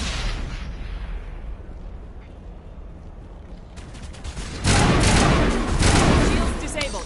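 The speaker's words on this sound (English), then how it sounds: "Ends up throwing a grenade." Grenade blast in the Mass Effect video game, a loud broadband burst about two-thirds through after a stretch of rumbling combat noise, with heavy noise lingering afterward.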